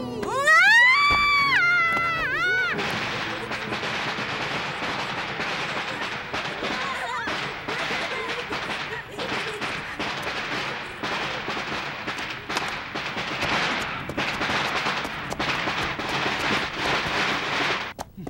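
Strings of firecrackers go off at a wedding, a dense, loud crackling barrage of rapid pops that continues for many seconds, preceded by a brief rising and falling whistling tone.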